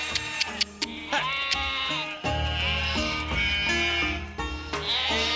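Goats brought for a sacrifice bleat in a chorus, several overlapping calls rising and falling in repeated wavering cries, loud and close, with no talking.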